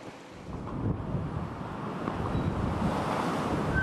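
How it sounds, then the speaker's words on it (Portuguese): Rough seas and strong wind surround the sailing ship Santa Maria Manuela, a close, continuous roar of waves and wind buffeting the microphone that swells after the first half second. "o mar está bravo, muito vento."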